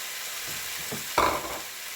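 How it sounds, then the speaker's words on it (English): Carrots dropping into a hot pan with roasted lamb and softening onion give a sudden burst of sizzling that swells, then eases back to a low steady fry, with a few soft stirring scrapes just before. "I'm going to go ahead and add my carrots."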